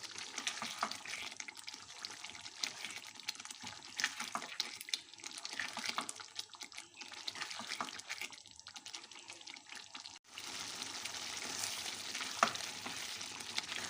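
Mutton biryani gravy cooks and sizzles in a pan with steady frying crackle and occasional stirring scrapes, fairly quiet and without talk.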